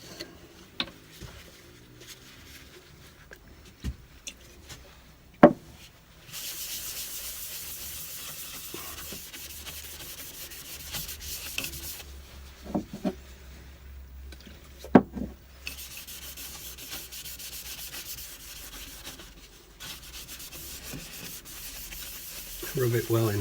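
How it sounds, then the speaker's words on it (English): Danish oil being rubbed into a turned wooden bowl with a cloth, soft close rubbing and hissing strokes in longer stretches, broken by occasional sharp knocks and handling clicks. "rub it well into the wood."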